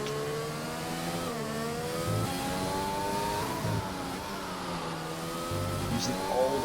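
Onboard engine of a Williams F1 car in the F1 2020 video game during a race in Spain: a loud, high-pitched scream that climbs and steps through gear changes, continuous and close, with no voices.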